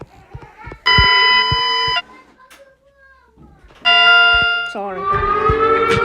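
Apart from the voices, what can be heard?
Emergency Alert System (EAS) siren tone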